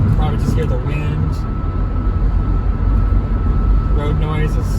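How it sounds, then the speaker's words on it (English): Inside a 2008 Toyota Prius at 75 mph on a highway, steady low road roar and wind rush fill the cabin, constant and fairly loud, with faint brief voice-like sounds over it. "Road noise is not that loud"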